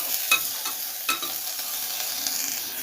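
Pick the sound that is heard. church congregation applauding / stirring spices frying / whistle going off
stirring spices frying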